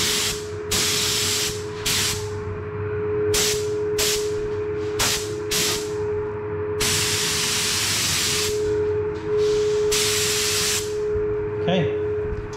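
A spray gun lays another coat of candy red paint over a marble-effect base in repeated hissing bursts, some short and some long, separated by brief pauses, with a steady mechanical hum throughout.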